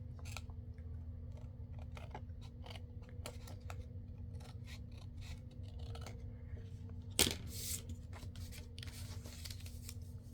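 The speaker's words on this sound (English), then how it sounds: "Let me just cut this one a little tiny bit." Scissors snipping fabric for a patchwork pocket, a series of faint, crisp cuts and small clicks at an irregular pace over a quiet low hum, with one sharper louder snip near the end.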